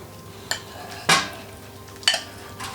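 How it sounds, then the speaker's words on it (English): Rice being added to a large sake fermenter, heard as three separate pouring, rustling bursts, each a short grainy rush, close and fairly loud, with no talking. "finally getting to move into a big fermenter and add some rice"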